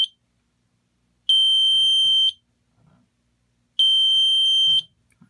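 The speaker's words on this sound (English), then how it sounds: "That buzzer goes for a long while." An electronic buzzer on a home alarm panel, signalling a battery trouble, sounds in two long, steady tones of about a second each, separated by a pause, loud and close.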